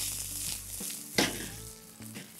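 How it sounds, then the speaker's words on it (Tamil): A batch of about thirty small shallots fries in hot oil, giving a close, bright, continuous sizzle with a few spoon knocks, and nobody talks. "இந்த ஆயில் சூடான பிறகு இங்கே சின்ன வெங்காயம் விட்டுருக்கேன்"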